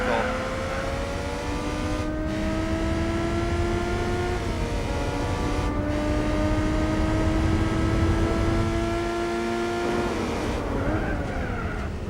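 Front-wheel drive car engine in Gran Turismo 4, a steady whining drone with rising and falling pitch as it climbs through the revs and shifts gears, loud and continuous with game sounds around it.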